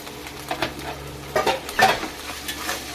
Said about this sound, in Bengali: মশলাটাকে আমি এইভাবে ভেজে নেব